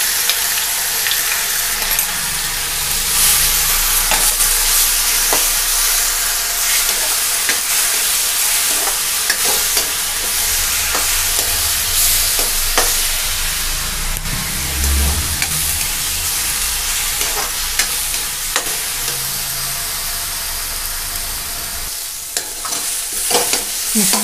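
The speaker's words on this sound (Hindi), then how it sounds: "मसाले भून चुके हैं" Ground spices and onion frying in a pan: loud, continuous sizzling with repeated stirring scrapes, close up and steady for the whole stretch, with no voices.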